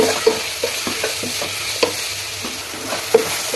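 Ground ginger, garlic and pepper paste being stirred into biryani masala frying in a pan, a spoon scraping and knocking rhythmically over a constant hiss of sizzling oil.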